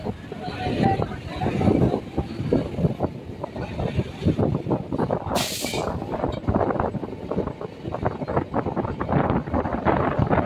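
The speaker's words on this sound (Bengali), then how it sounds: "ট্রেন এখন চেঙ্গাইল স্টেশন ছেড়ে বেরিয়ে যাচ্ছে।" A local train pulls out of Chengail station on the Howrah–Panskura line, a steady loud rumble with wind buffeting and rattling throughout, voices talking over it.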